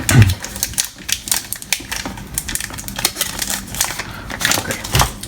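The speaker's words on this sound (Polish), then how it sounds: "Zdejmę tą folię." Protective plastic film is peeled off a new MacBook Pro charger, giving a run of close, crisp crinkling and crackling bursts with irregular rhythm, moderately loud, with no clear talk.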